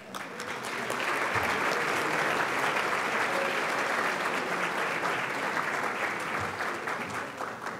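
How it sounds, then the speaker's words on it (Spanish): Sustained, dense applause from a large audience at a university graduation ceremony, honoring a newly graduated architect, holding steady and loud throughout with a brief swell of cheering. "Otro aplauso para la arquitecta, felicitaciones."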